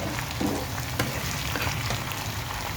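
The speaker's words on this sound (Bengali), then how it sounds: "একটু বেশি রসুন আর একটু অল্প অল্প একটু আদা, একটু নেড়ে চেড়ে নিই।" Garlic and ginger stir-frying in a pan, a steady, dense sizzle with faint stirring scrapes close by, continuous and without speech.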